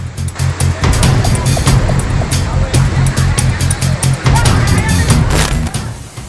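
Floodwater rushes down a city street carrying cars along, a loud churning torrent with surging, gusty bursts throughout, while someone talks over the roaring flow.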